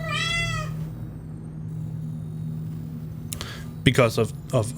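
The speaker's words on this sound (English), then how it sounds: "As you can hear, we have cats here also." Cats meow in Star Citizen on the moon Clio: one drawn-out meow at the start, then a quick cluster of several meows near the end over a low steady hum, with someone talking between them.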